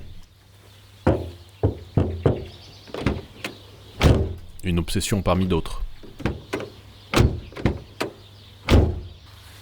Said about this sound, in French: j'ai logiquement fermé la porte pour m'agacer, pour la 149e fois, du bruit de tôle vide qu'elles font